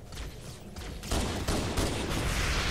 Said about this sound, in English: I'm gonna throw grenade